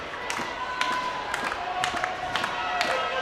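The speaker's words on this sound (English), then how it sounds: "He's going to get the slow hand clap in a minute" Ice hockey crowd beginning a slow hand clap, evenly spaced claps at roughly two-thirds of a second apart over general arena crowd noise.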